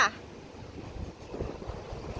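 Strong wind blows ahead of a rainstorm in Phnom Penh: gusty, low rumbling buffets hit the microphone in uneven surges, with no rain yet audible.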